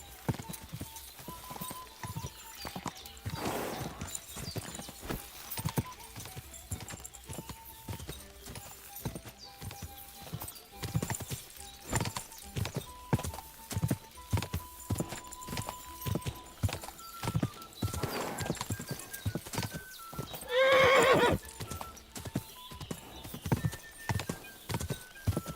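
Horse in the medieval game Kingdom Come: Deliverance: repeated hoof clip-clops in an uneven galloping rhythm, moderately close, with a clear neigh near the end; no talking.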